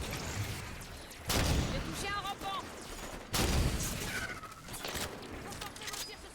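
Sniper rifle fire from the video game Halo 5 Guardians: two loud, sharp shots a couple of seconds apart ring out amid busy game effects and background noise.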